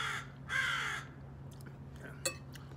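Crows caw in two harsh bursts, loud at first then shorter, over a steady low hum with faint clinks toward the end.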